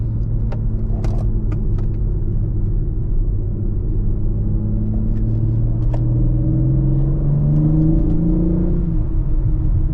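A BMW M car engine rumbles loudly and steadily from inside the cabin as it accelerates out of a tight corner at low speed, its pitch climbing gradually through the revs.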